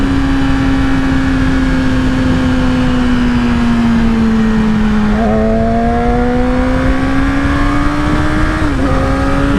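A 2016 Yamaha R6 sport bike engine pulling hard on a ride, a loud sustained high-pitched whine that climbs and dips slightly with a couple of shifts, heard alone over heavy wind roar.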